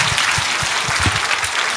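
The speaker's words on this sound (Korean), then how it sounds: "박수하겠습니다" Dense audience applause at a gathering, loud and continuous across the short stretch, with no talk over it.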